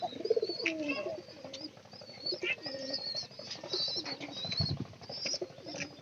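Pigeons kept in a home loft coo softly and chirp up close, with bursts of wing flapping now and then and a low rumble of handling noise, the calls steady and fairly near throughout.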